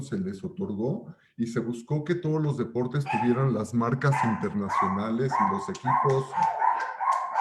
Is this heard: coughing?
no